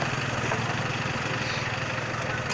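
Motor tricycles run along a busy city street in Naga, Cebu, their engines blending into a steady, dense drone with no voices over it.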